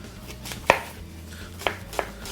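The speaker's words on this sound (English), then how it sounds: "I'm gonna dice these up real quick, slice them up" A knife chopping mushrooms on a cutting board for turkey stroganoff: four sharp, close knocks at uneven intervals, the first the loudest, with a quiet background and no talking.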